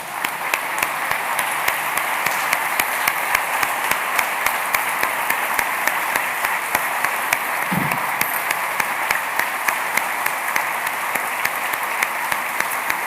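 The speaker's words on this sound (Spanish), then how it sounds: "Dale un fuerte aplauso al Señor, por favor." A church congregation applauds together in a steady, sustained wash of clapping that fills the whole stretch, even and fairly loud, with no one speaking over it.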